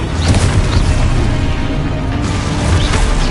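Confringo blasting spell exploding in Hogwarts Legacy, a loud close boom with a crackling burst, part of rapid back-to-back spell impacts and rumbling debris throughout.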